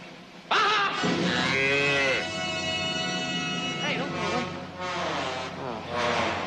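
A loud, drawn-out bull's moo with a deep harmonic tone, held for several seconds, then followed by shorter lowing calls up close.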